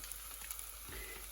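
Chicken masala, turmeric and pepper powder sauteing in a hot pan give a soft, steady sizzle that stays fairly quiet and continuous throughout, with no voices.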